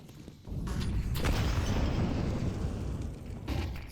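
A grenade goes off on the Ancient map during a competitive Counter-Strike match, a sudden loud burst after a quiet moment that swells into a sustained, roaring rumble before tapering off.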